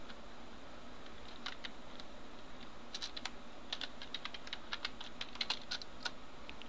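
Fingers type on a computer keyboard, entering a form name, with a steady run of light, close key clicks that speed up toward the end over a faint room hiss.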